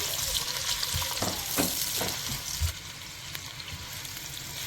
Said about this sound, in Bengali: তো এই যে আমরা পেঁয়াজ একটু ভেজে নিচ্ছি